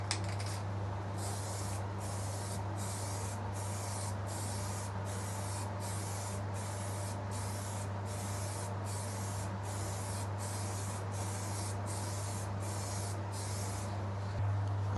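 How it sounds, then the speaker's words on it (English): Continuous pressurized hiss of an aerosol can spraying nitrocellulose lacquer onto a guitar, broken into a steady run of short bursts, close and fairly loud over a low constant hum. "it's easier to spray if the can is stood up straight"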